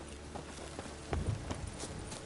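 Horse hooves clip-clopping in The Witcher 3, a short run of soft, fairly quiet hoof beats at a walking rhythm, heavier for a moment midway, with no talk.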